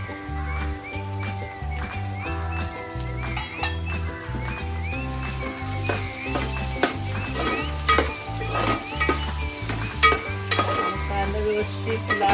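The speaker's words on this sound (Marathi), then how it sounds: "कांदा व्यवस्थित शिजून घ्यायचा, व्यवस्थित परतून घ्यायचं." Chopped onions fry loudly in a pan for a mutton thali, a strong continuous sizzle with rhythmic scraping and clanking of a spatula as they are stirred, no voices.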